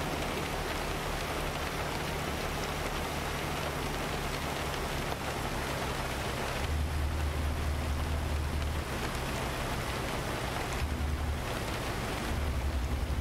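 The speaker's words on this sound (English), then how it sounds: "now it's raining when I'm in crash cam here" Steady rain falls in the trucking game American Truck Simulator, a dense continuous hiss with a low rumbling bed that swells louder in a couple of stretches, no voices over it.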